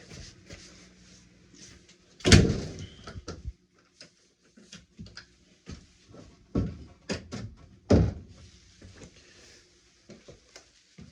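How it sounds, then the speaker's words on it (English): An interior door in a house with a sloping floor scrapes and rubs against the floor as it moves, giving a loud rough drag followed by scattered clunks and scuffs, close by, with no talking. "See the doors rubbing a little bit on the floor just from the movement, the slopage in the floor."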